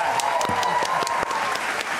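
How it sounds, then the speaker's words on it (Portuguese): Studio audience applause on a Brazilian late-night talk show, a dense steady wash of clapping with scattered whoops and cheers, loud and close throughout. "Palmas para o sofá."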